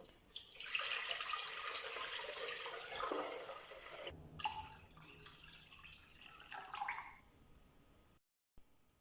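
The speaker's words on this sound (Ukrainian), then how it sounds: "В каструлю, в якій буде маринуватися курка, вливаємо воду" Water pours steadily into a pot for a chicken marinade for several seconds, a bright rushing splash that thins out, followed by quieter trickling and a brief pause.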